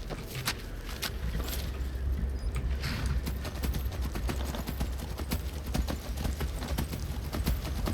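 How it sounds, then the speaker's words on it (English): Horse hooves clip-clop steadily in the video game Skyrim, a brisk, even rhythm of close, loud hoofbeats repeating throughout with light background game ambience. "Where my horse is."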